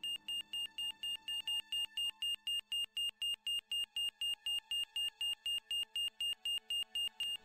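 A hospital cardiac monitor alarm in the Broken Sword video game sounds as a rapid, regular series of identical electronic beeps. It is clear and steady and continues alone throughout, with no voices.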